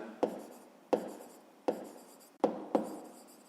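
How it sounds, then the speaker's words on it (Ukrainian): Hand writing while solving a maths exercise, five separate close pen or chalk strokes, each a sharp onset followed by a brief scraping tail, quiet and unaccompanied by speech. "Давайте так і запишемо."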